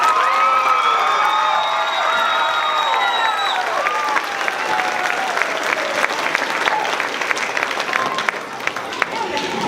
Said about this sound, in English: how about a big round of applause for Miss Palma?